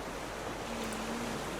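Ocean waves wash steadily around a raft adrift at sea in the survival game Raft, a soft continuous surf and wind wash with a faint low tone, no voices.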